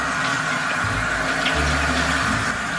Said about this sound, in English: Babe, I'm putting on cold water.